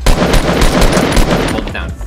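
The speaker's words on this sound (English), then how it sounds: "Aim at him and just shoot him." Rapid automatic gunfire in the video game Fortnite, a dense, loud burst of shots in quick succession lasting about two seconds.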